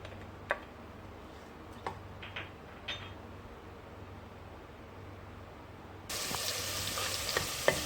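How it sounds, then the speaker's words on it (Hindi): Gentle sizzling in a pan with occasional ticks and pops, rising to a louder, brighter hiss near the end as about a tablespoon of ginger garlic paste is added, for daal mash. "अब इसमें मैं डाल दूंगी तकरीबन 1 टेबल स्पून के करीब अदरक लहसुन का पेस्ट।"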